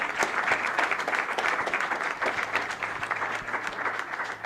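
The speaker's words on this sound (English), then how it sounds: "Let's give everyone a big round of applause one more time" Sustained applause from an audience at a school board of education meeting honoring students of the month, a dense steady patter of many hands clapping at moderate distance throughout, without talk.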